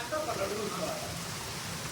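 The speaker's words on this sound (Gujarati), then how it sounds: "આપણે પાલનપુરમાં તો વરસાદ ચાલુ છે ધમ ધોકાર." Heavy rain pours down steadily in Palanpur, a dense, even hiss of downpour that fills the whole moment at close range.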